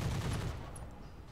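Dense burst of rapid gunfire from the tactical game Roguepoint, loud and continuous, fading slightly toward the end.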